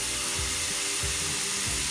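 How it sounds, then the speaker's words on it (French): Hot water runs into a plugged kitchen sink as a steady, close, broadband hiss that holds for the whole stretch with no voices. "Ensuite, on met de l'eau chaude"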